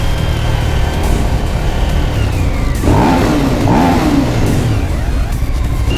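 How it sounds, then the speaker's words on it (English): A Suzuki SV1000 motorcycle engine revs hard inside a tunnel, the loud V-twin roar climbing and echoing off the walls over a steady drone of engine noise. "Gonna give it a nice rev in that tunnel."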